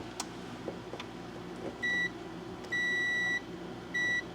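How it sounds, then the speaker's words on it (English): A multimeter sounds continuity beeps while testing the ground wire of a new electric dryer outlet, three clean electronic tones of varying length, the middle one longest, over faint shop background noise. "Let's do just a continuity test on the ground."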